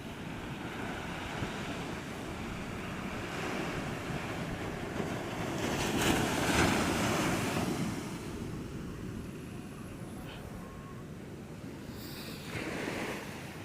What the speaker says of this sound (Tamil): ஆனால் கடல் ஒரு மார்க்கமா தானே இருக்குது